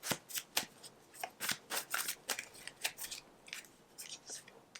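Tarot cards being shuffled and drawn by hand: a quick run of soft, papery riffles and slides in an uneven rhythm, close and quiet.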